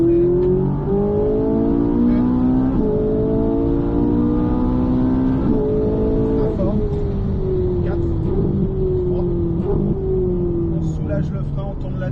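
During a driving lesson, a car engine repeatedly climbs in pitch through several gears, rising and dropping in steady steps, while an instructor talks continuously over it.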